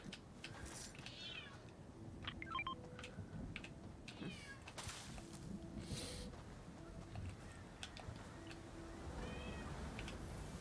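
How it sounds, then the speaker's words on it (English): A cat meows several times, faint and somewhat distant, with drawn-out rising and falling cries scattered over a low background rumble. "I hear a cat meowing"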